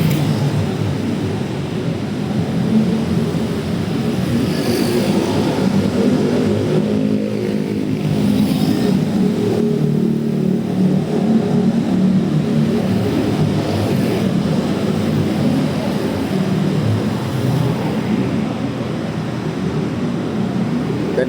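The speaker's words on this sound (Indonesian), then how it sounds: "Sebelah kiri kita ini adalah kendaraan yang datang dari arah Cawang," Vehicle traffic arriving from Cawang, East Jakarta, passes on a main road as a continuous, loud roar of engines and tires, with no breaks across the whole stretch.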